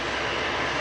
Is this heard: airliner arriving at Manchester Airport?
yes